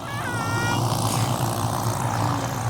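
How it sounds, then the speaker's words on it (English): An MD500 helicopter flying on a spraying job over gorse and pine trees, its engine and rotors a steady, full roar that stays loud and close throughout. "And we've got the choppers, so Christchurch helicopters are here."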